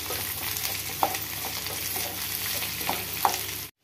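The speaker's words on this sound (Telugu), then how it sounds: "బాగా కలుపుకోవాలి ఉల్లిపాయ ముక్కలు మగ్గేదాకానే." Chopped onion pieces fry in a pan for a puri curry, a steady close sizzle with a spoon scraping and stirring through them, two brief clinks standing out before the sound cuts off abruptly at the end.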